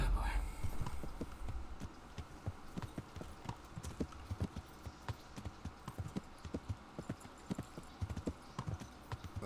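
Horse hooves clip-clopping in the medieval video game Kingdom Come: Deliverance, a steady, fairly close rhythm of hoof strikes over a low background hum, with a soft rumble at the start.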